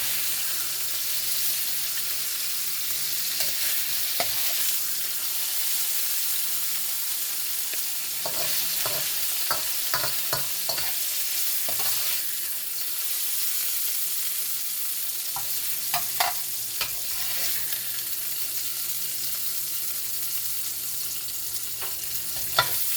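Onions and leeks in a vegetable stir-fry sizzle steadily in a hot pan, a constant frying hiss with occasional clinks and scrapes of stirring, close and moderately loud throughout.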